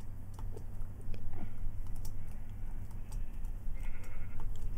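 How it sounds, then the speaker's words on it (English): A sheep bleats faintly amid Minecraft game sounds, with scattered clicking and a constant low hum throughout. "Oh, it's our sheep."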